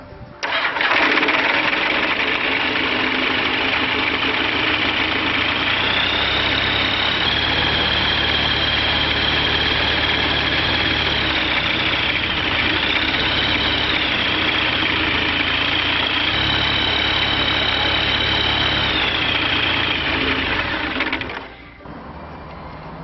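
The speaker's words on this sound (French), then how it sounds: "on lance le moteur pour une première mesure d'équilibre des pressions" A Rotax 912/914 aircraft engine idles steadily for about twenty seconds during carburetor synchronization, a loud constant drone with slight pitch wavers, then cuts off abruptly near the end.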